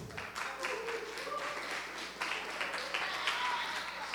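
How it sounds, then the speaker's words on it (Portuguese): A group claps for a student named Zorildo during a spiritual battle class, a short round of applause mixed with overlapping voices and a steady low hum throughout. "Salve de palmas para o Zorildo."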